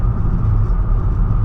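A Pontiac G6 with a muffler delete rumbles with a deep, raspy exhaust drone, loud and steady at close range with no talk.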